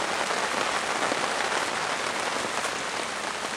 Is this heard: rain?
yes